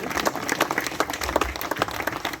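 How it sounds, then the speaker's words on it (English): An audience at a celebration-of-life gathering applauds, a brisk burst of many hands clapping at moderate distance that fades toward the end. "All right, y'all, give that baby a round of applause."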